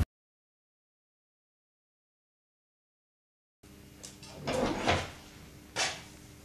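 Wooden doors into a bar in a country hall opening, heard after several seconds of silence as soft creaks, a couple of knocks and a clunk close by, with no talking.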